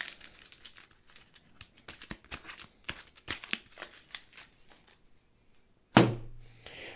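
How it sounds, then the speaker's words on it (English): Board game cards from a Star Wars: The Clone Wars deck are shuffled on a tabletop, a rapid crinkly riffling lasting several seconds, close and fairly quiet, ending in a sharp tap as the deck is squared. "Right, so shuffle the squad deck up."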